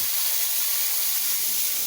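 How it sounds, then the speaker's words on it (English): A water spray washes sand off chert gravel, making a steady, close, broadband hiss that runs unbroken at even loudness with no pauses and no talk. "I'll spray off a decent amount of this sand"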